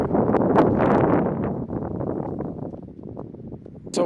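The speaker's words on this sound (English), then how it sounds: "it's quite windy, as you can hear" Wind blows hard across a microphone on an open hiking trail in Härjedalen, a loud rumbling buffet that swells and eases, with a brief rustling gust at the end.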